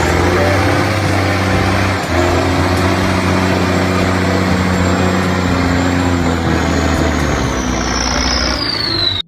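A dump truck engine, apparently a toy or game vehicle, drones steadily with a low, loud hum that stays constant, a faint whine rising near the end.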